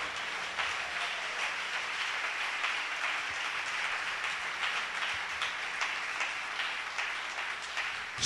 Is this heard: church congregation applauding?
yes